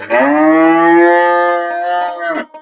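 A dairy cow that calved two days earlier lets out a single long, loud moo close by, holding steady for about two seconds before tailing off.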